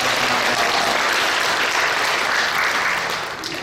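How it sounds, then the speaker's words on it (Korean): A church congregation applauds together during a New Year's Eve communion service, a dense, steady wash of clapping that holds loud throughout and begins to thin toward the end. "영광의 박수 올려드리겠습니다."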